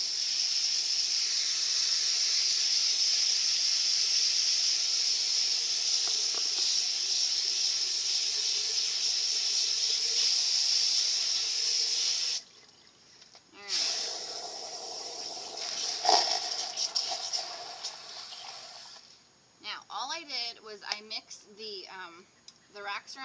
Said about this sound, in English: we're just going to rinse that out in the filter, in the little lily basket right now